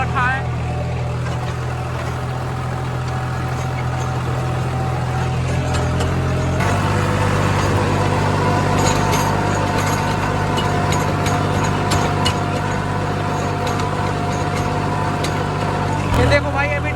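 A tractor engine runs steadily under load in a field during corn harvest, a loud low drone that deepens partway through and holds, with a brief rise near the end.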